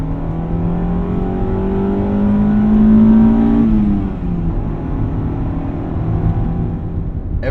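A 1995 Honda Civic Si with a 5-speed manual drones steadily from inside the cabin, engine note rising as revs build, then dropping sharply at a shift before settling into a steady hum again.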